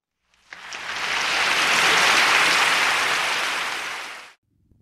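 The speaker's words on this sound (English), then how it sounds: "a round of applause for these diligent students" A crowd at a secondary school accolades assembly claps together in a dense burst of applause that swells, holds for a few seconds, then stops abruptly.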